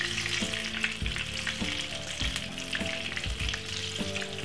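Banana fritters frying in hot oil on a Jamaican street-food stall, a loud continuous sizzle and crackle with a background hum, no talking.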